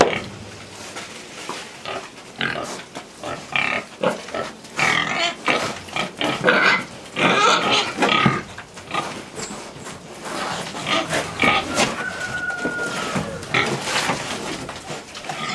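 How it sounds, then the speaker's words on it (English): Pigs eating bread grunt and snort repeatedly up close in irregular bursts, with a steady background murmur and no talking. "Pigs have to be persuaded."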